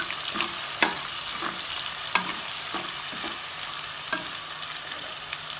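Sliced onions with turmeric sizzle steadily in a pan for Hyderabadi mutton korma, while a spoon stirs them with soft, regular scraping strokes every second or so. The sound is quiet and close, with no talk.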